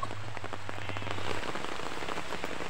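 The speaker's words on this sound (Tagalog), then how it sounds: "Nakapayong tayo kasi umuulan." Steady rain patters on umbrellas and the ground, a dense close hiss of drops with scattered sharper taps throughout, moderately loud and without talk.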